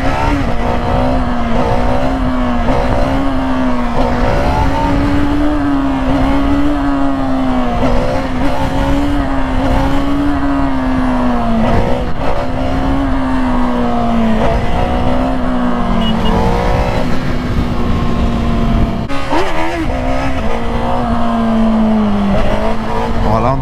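A new motorcycle ridden on a sunny day, its engine droning steadily and close with a wavering pitch that rises and falls through the run, continuous and loud with no talk.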